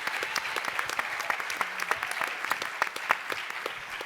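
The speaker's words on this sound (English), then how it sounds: "Round of applause" A crowd gives a round of applause for a student ambassador after a sports initiative pitch to a panel, dense steady clapping with sharp individual claps throughout and no talking.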